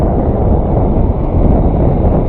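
Wind buffets a microphone on an empty beach on a windy morning, a steady low rumbling roar that fills the whole stretch without a break and with no voices.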